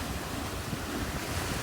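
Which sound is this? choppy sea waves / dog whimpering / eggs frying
choppy sea waves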